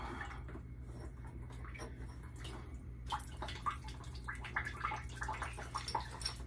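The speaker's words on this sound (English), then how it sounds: "Take this side out, let that drip out." Water dripping and trickling out of a DAB E.Sybox Mini 3 pump being repaired for a leak, soft irregular drips and splashes close by, getting busier in the second half.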